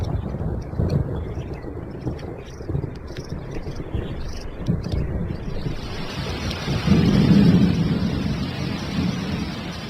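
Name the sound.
thunderstorm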